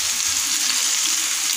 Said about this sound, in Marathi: आपले मस्त फ्राय होत आहे